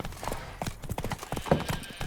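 Hooves of Roach, a horse in The Witcher 3 video game, beat in a quick, rhythmic gallop at close range, with dense repeated clip-clop strikes over a short stretch.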